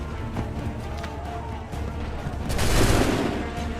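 Musket volley fire in Assassin's Creed 3, a dense crackling fusillade of many shots rolling together, swelling loudest near the end amid battlefield din.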